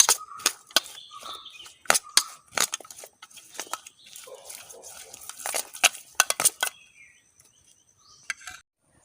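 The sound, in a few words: mixing tomato onion salad in a bowl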